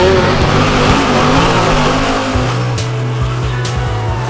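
Race cars roar past at high revs on a 2.5-kilometre street circuit through the town of Waimate, New Zealand, engines droning and shifting pitch, loud and close, with a sustained engine hum throughout.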